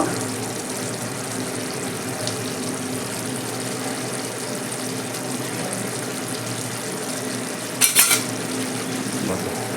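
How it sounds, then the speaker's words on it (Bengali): A spoon scrapes and stirs fried tangra fish into a simmering curry of potato and eggplant in a pan over a steady sizzle, with a brief clatter of utensils near the end. "এবার আমি ভাজা মাছগুলোকে ছেড়ে দিচ্ছি ভালো করে এই মশলার সঙ্গে মিশিয়ে নেব"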